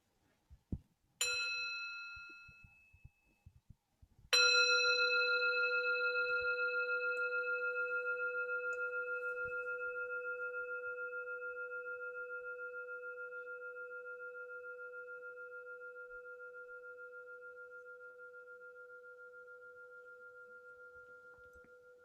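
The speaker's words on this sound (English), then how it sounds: "Why don't we have a sound of the bell?" A meditation bell is struck once lightly and then once fully during a Buddhist dharma talk, the second strike ringing out clear and alone with a long, slowly fading hum.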